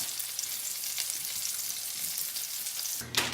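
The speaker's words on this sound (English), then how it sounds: "So go ahead and let them cook for about another 10 more minutes on the other side, so they're evenly cooked" Pork chops fry steadily in a pan, a continuous close hiss of sizzling fat with a brief louder crackle near the end, no voices.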